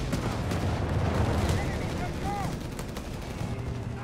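Mortar barrage from the American mortar in Company of Heroes 3, a dense, continuous rumble of distant explosions and gunfire with a few whistling shells overhead, steady and loud throughout.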